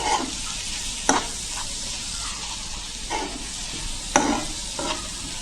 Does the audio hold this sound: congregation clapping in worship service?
no